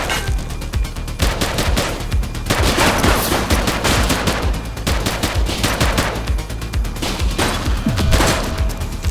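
Sustained gunfire from a police shootout in the video game The Precinct, dense rapid bursts and overlapping automatic shots, loud and continuous throughout.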